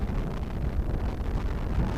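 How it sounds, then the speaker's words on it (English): Gusty wind blows across an RC flying field, buffeting the microphone with a continuous low, rumbling roar that surges slightly throughout. "it's getting gustier, getting windier"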